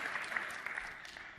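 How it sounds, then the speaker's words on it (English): Audience at a university graduation ceremony breaks into steady, dense applause, many hands clapping together in a continuous wash, moderately quiet and heard alone. "Applause."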